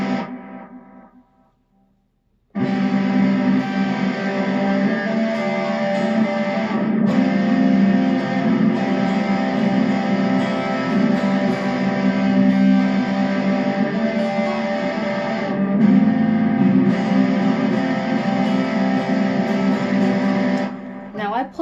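Electric guitar riff played through a distortion effect, a dense, sustained, saturated tone that starts after a short quiet gap and runs continuously and loudly to the end.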